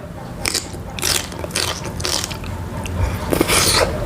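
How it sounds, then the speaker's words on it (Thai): Crunchy bites of kimchi, with a few sharp crackling bursts spread across a mealtime spread of grilled pork belly, mackerel, and Korean instant noodles, close and moderately loud over a steady low background. "ขอทานกิมจิก่อนนะคะ"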